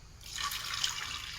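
Water is poured into a pot of lentils for a curry, a soft, fairly faint splashing trickle that starts after a short pause and runs steadily to the end.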